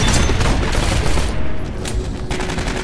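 A turret fires in the Aliens Colonial Marines video game, unleashing rapid, loud bursts of automatic gunfire that roll almost continuously through the short stretch with a brief thinning midway.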